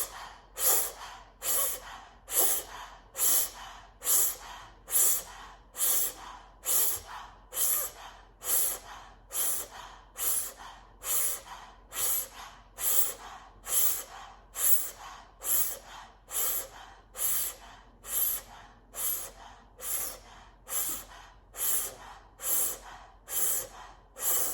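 Rapid rhythmic breathing in Wim Hof method rounds, about thirty quick deep inhale-exhale cycles in a steady pulse, close and clear with no talking.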